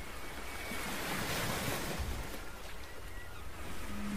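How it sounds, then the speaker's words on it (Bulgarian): Ocean surf breaks and washes onto a beach in a continuous loud roar, with some wind noise and no voices. "Може да наблюдавате вълните или да си затворите очите и просто да слушате прибоя."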